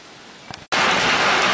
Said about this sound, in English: sudden rainstorm. Heavy, heavy, heavy rain.